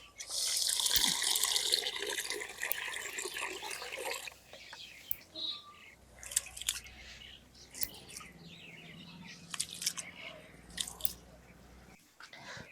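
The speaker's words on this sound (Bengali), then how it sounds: "চাউলটা খুব সুন্দর করে ধুয়ে নিছি" Cold water splashes and runs loudly as rice is washed by hand for broken-rice bhat, then settles into scattered close clicks and light sloshing from the grains and pot.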